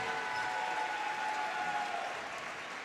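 A crowd in a gym applauds steadily during player introductions before a high school varsity volleyball match, a sustained, even wash of clapping heard from a distance.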